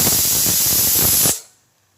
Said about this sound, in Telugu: కుక్కర్ 3 whistles వచ్చేస్తుంది కదా